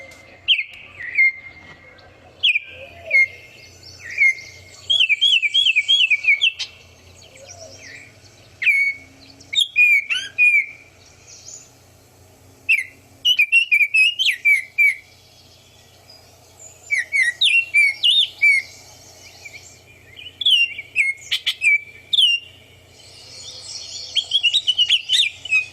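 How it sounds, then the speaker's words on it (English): Clear, fluty oriole whistles in short phrases repeat with brief pauses, mixed with a few chattering notes, close and prominent over a quiet background. "They have a whistling sound that almost could be confused for a person at times"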